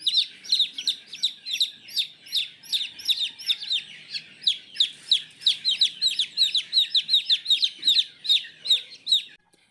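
Newly hatched chicks chirp in a box, a rapid, continuous run of high peeping calls close by, with no talk over them.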